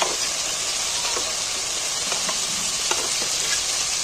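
Cauliflower and eggs fry in a spiced masala in a pan, giving a steady, loud, bright sizzle with light stirring scrapes throughout and no talking.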